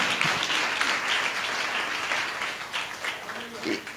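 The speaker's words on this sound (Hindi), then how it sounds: "ताली बजा के उसको धन्यवाद।" A church congregation claps in thanks during a Hindi-language sermon, a sustained wash of applause that stays even and thins slightly toward the end, where a voice briefly comes through.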